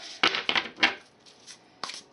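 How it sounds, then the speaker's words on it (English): A deck of tarot cards being shuffled, with several quick, crisp riffling snaps close to the microphone in a cluster at the start and one more after a short pause. "So I'm just going to be shuffling the deck here"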